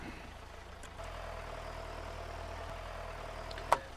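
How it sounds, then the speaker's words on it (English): A tractor engine idles in the farming video game Stardew Valley, a steady low rumble starting about a second in and holding evenly, with a brief sharp blip near the end. "I forgot we had the tractor."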